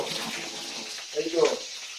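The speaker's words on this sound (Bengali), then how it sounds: "ঠাকুরের বাসনপত্র একটু ধুয়ে নিচ্ছে আশা করি আপনারা জলের আওয়াজ পাচ্ছেন" Water runs steadily from a tap while prayer utensils are washed at home, with brief clinks partway through and a voice speaking over it.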